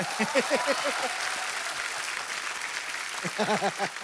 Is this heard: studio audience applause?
yes